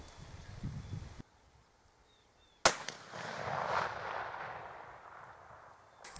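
A single muzzleloader rifle shot rings out during scope zeroing with a Vortex scope at the range, a sharp crack followed by a long rolling echo that fades over several seconds.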